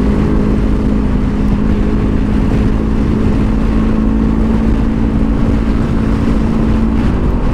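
A motorcycle on a long ride along the road, its engine giving a continuous droning rumble with a steady low hum, mixed with rushing wind noise throughout.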